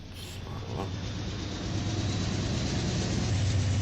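A massive steam locomotive in the Minecraft Immersive Trains mod heats up and runs, a steady low rumbling drone with hissing noise that slowly builds in loudness.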